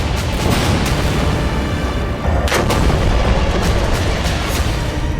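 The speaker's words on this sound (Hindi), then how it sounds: "वो बस सिनवार की मौत पुख्ता करने के लिए गाजा पर लगातार बम मारे जा रहा है।" Bombing and artillery fire on Gaza: a loud, continuous barrage of booming blasts and rumbling detonations, with a sharper burst partway through and no speech.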